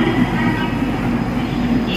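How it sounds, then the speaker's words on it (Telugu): Train noise at Guntakal railway station, a large junction in southern India: a steady, loud low rumble of rolling rail cars fills the two seconds, with no talk over it. "గుంటకల్ రైల్వే స్టేషన్ వచ్చి చాలా పెద్దదండి ఇది."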